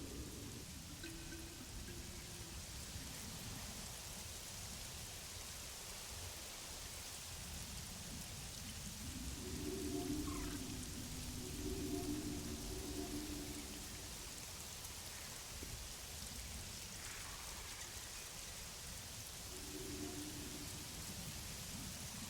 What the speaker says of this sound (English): Let's see what it looks like up here when it's raining.